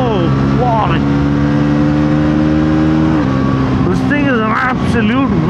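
A performance vehicle fitted with a slipper clutch and quick shifter accelerates hard, its engine a loud steady drone with rising revs and quick shift steps, while someone talks excitedly over it.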